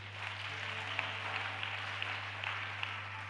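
A church congregation at a Lutheran Bible seminar in Mwanza applauding for Machange, a steady, dense wash of clapping heard from a distance over a constant low electrical hum.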